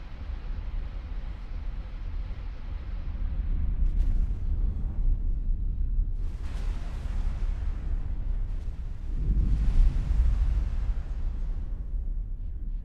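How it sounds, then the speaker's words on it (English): Bombs from TIE bombers go off in a Star Wars space battle in X4, heard as a steady roar of deep rumbling blasts, with heavier booms swelling near four, six and ten seconds. "So that TIE bombers are going in, doing their bombing damage."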